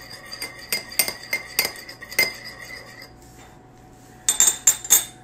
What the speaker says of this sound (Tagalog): Haluin natin siya.